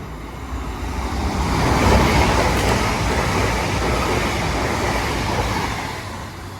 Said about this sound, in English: Next train to zoom past is a class 800 Eastbound Express service to Liverpool Lime Street